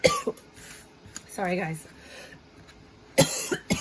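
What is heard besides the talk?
coughing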